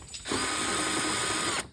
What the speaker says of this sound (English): So these screws, we're going to take a 10mm socket